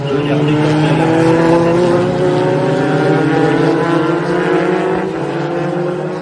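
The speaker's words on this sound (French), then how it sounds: "on est devant une course de F3 historique" Historic Formula 3 race cars roar past at Circuit Paul Ricard near the last corner before the straight, several engines overlapping in a loud, continuous high-revving drone with rising and falling pitch, and a voice talking over it.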